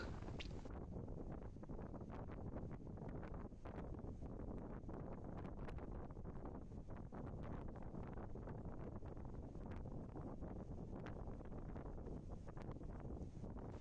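Strong wind from a dust storm beside the sea in Oman buffets the microphone in a continuous roaring rumble with gusty bursts throughout.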